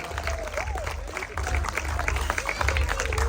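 Audience clapping at a volleyball and throwball league closing ceremony, a steady wash of applause with crowd murmur and a voice over the top throughout.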